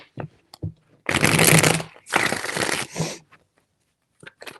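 Tarot cards shuffled in two dense riffling bursts of about a second each, close and crisp, with a few faint soft handling taps before and after.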